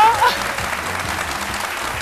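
A TV studio audience at a midday talk show applauds in a steady, dense patter of clapping, with a presenter's voice speaking over it.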